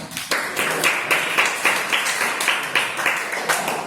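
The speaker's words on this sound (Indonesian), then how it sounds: "kita kasih tepuk tangan untuk kelompoknya" Students in a classroom clap for a group after its presentation, with rhythmic, fairly close hand claps repeating at a steady pace for a few seconds.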